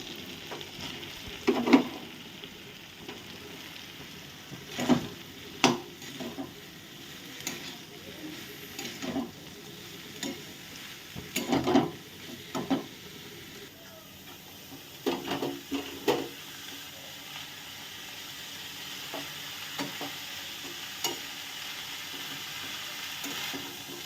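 Cabbage is fried with a cooked-down spice paste for a fish-head cabbage dish, under a steady background sizzle. A utensil scrapes and stirs the pan in repeated irregular strokes, close and moderately loud.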